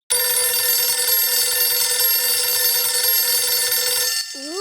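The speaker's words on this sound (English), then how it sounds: "That's the emergency phone. It's ringing." An emergency telephone rings in a cartoon, a loud, steady electronic bell tone that continues unbroken for about four seconds before cutting off as a voice starts to speak.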